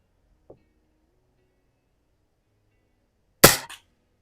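A Tom Palmer custom Marlin cowboy/499B conversion rifle fires one sharp, loud shot at the range while plinking at cans, preceded by a faint small click and followed by a brief echo, with no talking.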